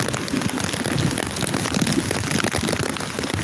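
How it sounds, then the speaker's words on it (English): Heavy pouring rain outside in Texas, a dense continuous hiss and patter of drops close by, with no voices. "Reporting to you live outside in the pouring fucking rain."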